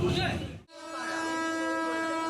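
A local train at Tikiapara station, a brief burst of rumbling noise cutting off abruptly, then a long sustained train horn blast rising loud and steady.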